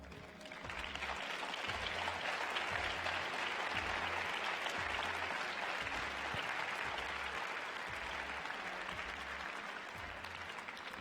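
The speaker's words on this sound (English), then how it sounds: "Great shot of his comrades on his teams behind him cheering" Crowd applause fills an arena at a junior figure skating Grand Prix free skate in Ostrava, a steady, even wash of clapping and cheering heard at a moderate distance, with faint rhythmic low thumps beneath.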